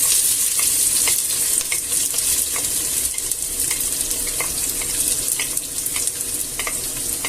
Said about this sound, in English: once the oil is hot, that was quick, I'll add the pepper, onion and garlic in there